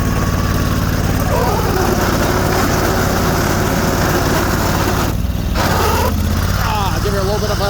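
A Sears Suburban snowblower with a 20 hp Briggs V-twin idles steadily while pushing through snow more than a foot deep, a constant close engine drone with voices talking over it.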